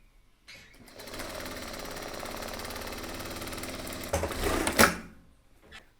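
A sewing machine stitches the hem along a tailored trouser pocket edge in one steady, close run of several seconds, then speeds up briefly before stopping with a few faint clicks.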